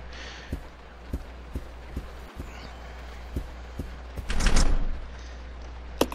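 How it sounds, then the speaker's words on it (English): A locked dining car door in the Resident Evil 0 HD video game rattles and clunks with a cluster of sharp knocks near the four-second mark, set among steady evenly spaced thuds over a low constant hum. "The door to the dining car is locked."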